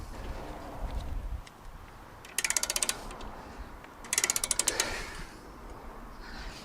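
A ratchet jack lifts a Tesla Model Y wheel off the ground in two short bursts of rapid metallic clicks, separated by quieter handling and faint background sound.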